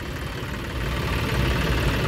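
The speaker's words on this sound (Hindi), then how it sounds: "अब ये ट्रैक्टर जो है पहले भी काफ़ी देर से चल रहा था" A tractor engine runs steadily with a low, broadband rumble that grows slightly louder partway through, close by and continuous with no talk.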